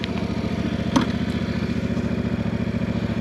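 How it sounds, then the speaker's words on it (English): A motorcycle engine idles in neutral just after starting, with a steady, even low chugging rhythm that runs unbroken and close throughout, with no talking. "Bike's now on."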